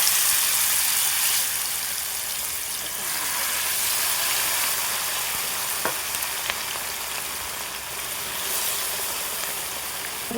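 Chicken tandoori pieces fry in hot oil with a steady, close hiss of sizzling that runs throughout, with a few small pops and crackles standing out.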